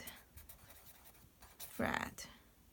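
Pen writing Korean letters on paper, heard as faint, scratchy strokes with a brief louder scrape near the end, close and quiet.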